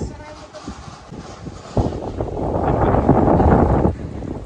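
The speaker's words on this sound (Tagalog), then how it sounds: "Napakalakas ng hangin" Strong typhoon wind from the Bagyong Uwan storm, with flooding in Hagonoy, roars across the microphone in loud gusts that swell sharply midway and buffet steadily before easing near the end.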